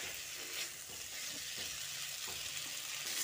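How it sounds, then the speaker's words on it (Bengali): Potatoes, yardlong beans and onion being mixed with spices in a hot pan, giving a steady close sizzle with soft intermittent scraping taps of the spatula. "আলু, বরবটি ও পেঁয়াজটা দিয়ে মশলার সঙ্গে ভালো করে মিশিয়ে নিচ্ছি"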